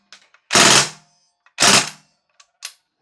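Northeast Mini UZI gas blowback airsoft gun firing on CO2 magazines: two loud, short bursts of rapid shots with a pause between, then a few faint clicks and a lighter pop.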